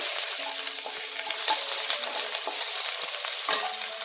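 Grated ginger sizzles in hot oil with cumin seeds for a dalia khichuri, a bright continuous frying crackle with a few light taps of stirring, close and with no voices.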